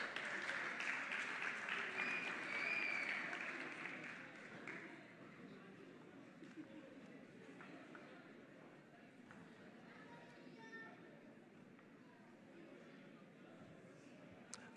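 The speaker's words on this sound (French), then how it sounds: "Est-ce qu'on peut encore applaudir?" Audience applause at a gospel music competition final, loud dense clapping at first that fades after a few seconds into softer scattered claps and crowd murmur with talking.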